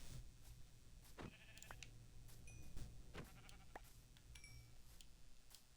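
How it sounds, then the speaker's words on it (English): Two sheep bleat in a Minecraft-style video game world, short repeated bleats scattered over several seconds above a low steady background hum. "We've got 2 sheep."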